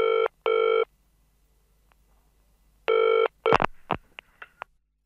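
Landline telephone rings in two loud electronic bursts near the start, then another burst, followed by clicks and handset pickup noises, with no talking.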